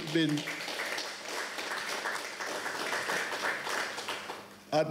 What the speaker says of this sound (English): ought to give yourself a round of applause for that